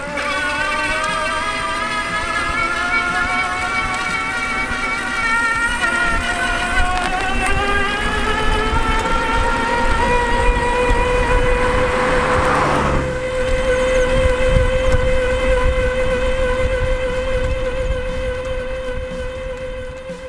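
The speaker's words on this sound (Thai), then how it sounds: "หลังจากที่ได้ทำการทดลองขับขี่ดูนะครับเขาก็สามารถทำงานได้ดีนะครับมอเตอร์กับชุดขับเคลื่อนนะครับ" An old three-wheel bicycle converted to electric drive on a test ride, its motor and drivetrain giving a steady whine that climbs in pitch as it gathers speed, over continuous road and wind noise with no talking.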